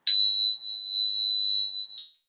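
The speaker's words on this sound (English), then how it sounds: "breathing profoundly as you hear the sound of the bell" A meditation bell is struck once, giving a bright, pure ringing tone that sustains loudly and steadily for about two seconds before fading out, with no talk over it.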